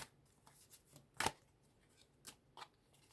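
Tarot cards shuffled in a few soft riffling bursts, one louder flurry in the middle and lighter ones around it, close and quiet with no talking.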